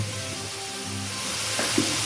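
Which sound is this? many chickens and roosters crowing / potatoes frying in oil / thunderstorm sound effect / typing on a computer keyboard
potatoes frying in oil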